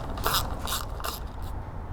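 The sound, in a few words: removing two bolts from a fuel pump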